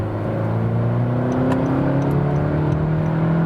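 A Honda HR-V 1.5 turbo pulling uphill in third gear, its engine droning steadily with a slowly rising pitch under load, heard from inside the cabin with faint clicks over the hum.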